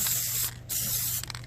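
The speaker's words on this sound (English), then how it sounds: "Spray a little bit thicker." A spray can applies Plasti Dip onto a car rim in short hissing bursts, loud and close, with a brief pause between sprays and a faint rattle.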